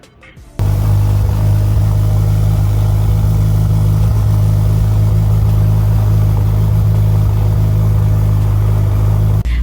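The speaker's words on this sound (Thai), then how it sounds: "เดี๋ยวให้ทุกท่านได้ฟังเสียงท่อนะว่าเป็นยังไงบ้าง" A 2020 Ferrari F8 Tributo starts with a sharp burst, then settles into a loud, steady, rumbling exhaust idle held close for several seconds without talk.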